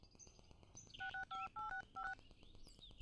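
Keypad tones of a phone number being dialed on a mobile phone: five short, clear beeps in quick succession, heard over a faint background with high chirps.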